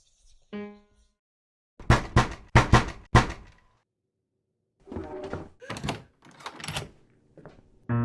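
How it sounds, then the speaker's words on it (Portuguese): Someone raps on a door in a quick series of four sharp, solid knocks, close and loud against near silence, followed by a few more muffled thumps. "alguém bateu na porta"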